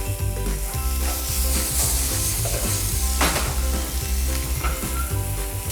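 Garlic and shrimp sizzle loudly in hot oil in a pan, a dense, continuous frying hiss with stirring scrapes, close and steady with no talk.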